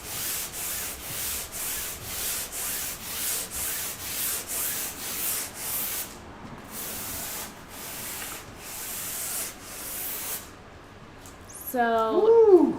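400 grit sandpaper rubs across a canvas coated in flat white house paint, producing a steady series of rhythmic scratchy strokes that pause midway, then resume before a brief voice at the end.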